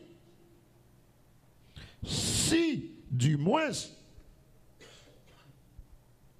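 A single person coughs twice in quick succession, close and fairly loud, with a few quiet words spoken just before.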